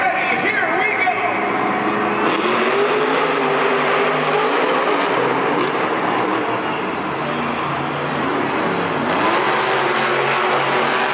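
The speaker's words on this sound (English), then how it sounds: "The next race is Cynthia Gauthier in Monster Dalmatian going against Morgan Kane and Gravedigger." Monster Jam trucks Monster Dalmatian and Grave Digger race in an arena, their engines a continuous loud roar with rising and falling revs, mixed with crowd noise and an announcer talking over them.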